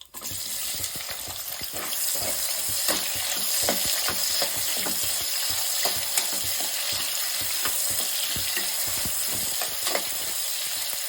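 Onions frying in hot oil with spices for a vegetable pulav, giving a steady close sizzle with scattered crackles and pops that continue throughout, no voices.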